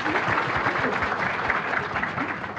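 Audience applause at a talk on building a sales network, a steady dense clapping that fills the whole stretch at close range, with no break.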